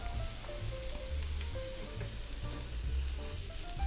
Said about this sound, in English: you'll only want to slightly char the garlic but not burn them, so make sure you keep stirring to avoid the burning